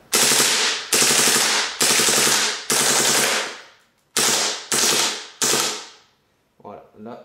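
An HK MP7 airsoft gas gun fires 0.25 g BBs on HFC gas in full-auto bursts: seven loud, rapid rattling volleys with short pauses between them, the last one weaker and sputtering.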